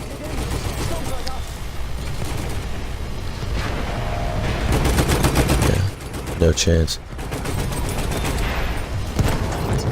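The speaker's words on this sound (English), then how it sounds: "it looks like I'm just shooting at the train" Rapid Battlefield 1 gunfire crackles over steady action noise while someone talks, with a couple of louder bursts and pauses near the end.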